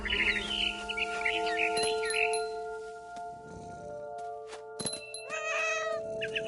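A cat meowing in the video game What Remains of Edith Finch, several drawn-out meows over a soft tonal music bed, followed by bird chirps near the end.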